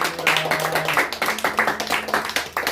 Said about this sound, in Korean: 주님께 영광의 박수 올렸습니다